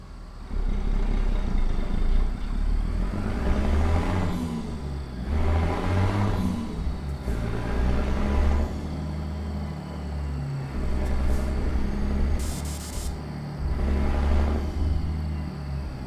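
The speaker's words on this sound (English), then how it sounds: "Jake brake on this sounds shit." A heavy truck engine with Jake brake bursts in American Truck Simulator, rumbling loud and low with repeated rising and falling surges every couple of seconds, no talking over it.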